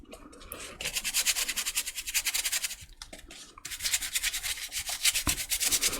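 A brush scrubs paint over a stencilled surface, a steady rhythmic rubbing and scratching close up that runs continuously with a brief pause midway.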